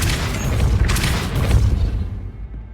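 Depulso spell cast in Hogwarts Legacy, a loud booming burst with crackling impacts that tails off into near silence, close and without voices.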